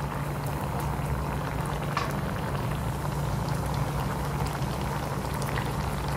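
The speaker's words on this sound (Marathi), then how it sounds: "इथे हळूहळू आपल्या भाजीला उकळी येते." A pan of pav bhaji vegetable mixture boils steadily, giving a continuous dense bubbling and simmering that stays even and fairly close, with no talk.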